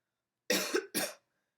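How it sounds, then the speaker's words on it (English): Two quick, harsh coughs from one person in a dry indoor setting, close to the microphone, the second burst shorter than the first, then quiet. "Sorry if I'm coughing a bit through this video."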